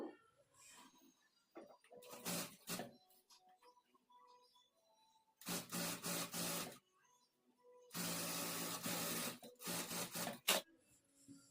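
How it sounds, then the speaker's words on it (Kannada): A sewing machine stitches folded sleeve edges for a full-sleeve churidar in several short, dense bursts of rapid mechanical whirring, separated by quiet pauses filled with faint handling and rustling of cloth. "ಎರಡೂ ಸ್ಲೀವ್ಸ್ಗೂ ಸಹ ಎಡ್ಜಸ್ಸನ್ನು ಫೋಲ್ಡ್ ಮಾಡಿ ಸ್ಟಿಚ್ ಮಾಡಿಕೊಳ್ಬೇಕು"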